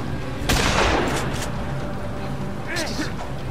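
Gunfire in the zombie game Dead Island, loud bursts of shots over a rumbling background, with a voice speaking underneath during the exchange.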